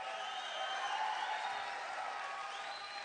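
A rowdy town hall crowd at a political rally cheers and claps in a dense, sustained roar, distant and muffled, with whoops rising through the noise.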